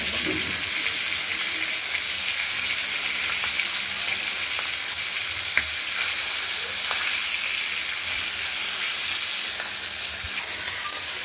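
A fish head sizzles in hot oil in a pan, cooked for a bottle-gourd-leaf curry. The close, dense crackle stays steady throughout, broken only by a faint tick or pop now and then.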